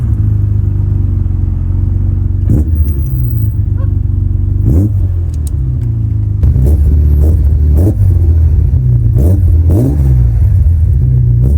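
A Dakar Yellow BMW E36 M3 engine revs repeatedly from a steady low idle, each blip swelling into a loud rising roar before dropping back, close and continuous with no talk.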